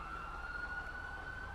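A police car siren wails steadily in a London police roleplay video game, a continuous high tone running the whole moment over a low engine rumble, with no talking.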